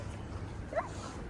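A single short, high yip from a small dog, brief and moderately close, over a quiet background.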